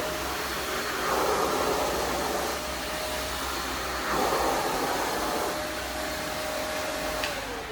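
An Arnica Klik Klak upright vacuum cleaner runs on carpet with a steady motor whine and airy suction roar, swelling slightly in pushes and pulls, close and continuous.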